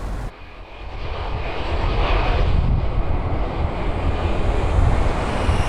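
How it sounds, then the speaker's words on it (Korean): Airplanes at Incheon International Airport roar steadily and loudly after a brief quiet start, a broad continuous jet engine rumble with wind-like hiss and no voices. "하루 이착륙하는 비행기만 500여 대"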